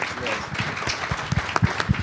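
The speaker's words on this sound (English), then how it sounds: "So please give a round of applause to the panel." An audience applauds a conference panel discussion. Steady, moderately loud clapping lasts about two seconds, with voices talking over it.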